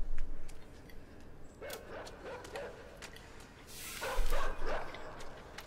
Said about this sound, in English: This dog is trained to kill people.